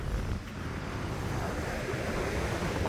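Steady roar of Pacific ocean surf on a California beach mixed with strong wind buffeting the microphone, continuous and loud with no voices.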